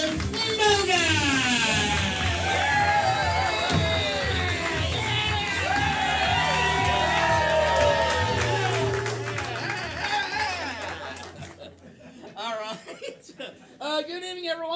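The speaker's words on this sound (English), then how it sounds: "Put those hands together, scream and shout." Comedy club audience at a live show cheering, whooping and applauding in a loud, sustained wash of crowd noise with music underneath, fading out near the end as a voice starts speaking.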